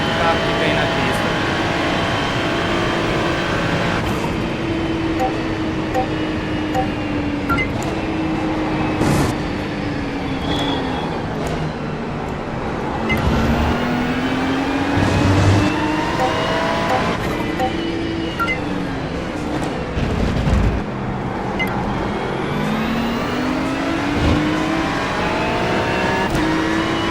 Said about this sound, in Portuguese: Tanto carro que vem na pista.